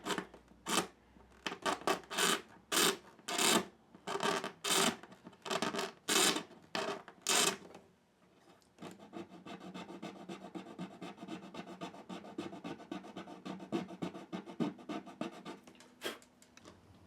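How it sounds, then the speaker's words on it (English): Wood is scraped back along a guitar neck near the saddle. About a dozen distinct rasping strokes come in a steady rhythm, then give way to quicker, continuous close-up scraping. "we're just going to scrape it back"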